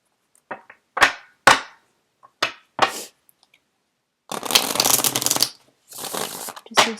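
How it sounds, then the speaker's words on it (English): Tarot cards are shuffled by hand in several sharp riffling bursts, first short crisp snaps and then two longer, dense shuffles, close and fairly loud with no talking. "I'm going to get the cards shuffled out."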